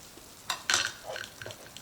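Tomato paste and meat fry over medium heat in a pan, a soft sizzle behind a few quick spatula scrapes and clinks, brief and close.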